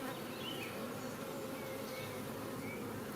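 Honeybees buzz at an open beehive during an apiary visit, a dense, continuous drone of many wings close by with no talking.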